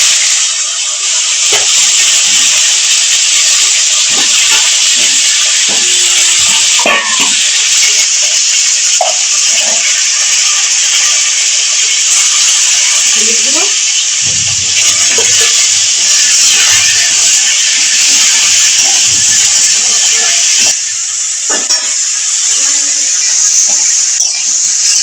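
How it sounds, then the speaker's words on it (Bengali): Cauliflower fries in a pan with a loud, constant hiss and sizzle that lasts throughout, while faint kitchen knocks and clatter sound underneath. "ফুলকপিটা ভাজা হতে থাক"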